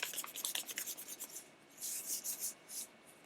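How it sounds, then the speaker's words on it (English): Cloth or hand rubbing briskly over a primed cosplay helmet to shine the primer, a close rhythmic swishing in quick strokes, then longer smoother passes, with no voices. "I like to shine the primer before painting."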